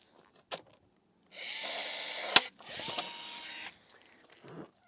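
Olympic rivet popped with a rivet tool during Airstream aluminum trailer work: two close mechanical squeezes of the tool, each about a second long, with a sharp snap between them and a few small clicks and handling knocks.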